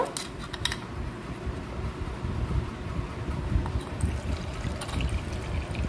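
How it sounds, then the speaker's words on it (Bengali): Water poured onto scooped-out bael fruit pulp in a bowl while making a cool summer sherbet, a steady low splashing pour heard close up on its own. "এরপরে এখানে জল দিয়ে দেব।"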